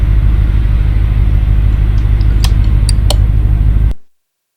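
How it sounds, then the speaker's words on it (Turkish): A Ford Mustang engine idling in Car Mechanic Simulator 2018, a loud steady low rumble with a few brief high ticks, cutting off abruptly near the end. "Arabamız çalıştı."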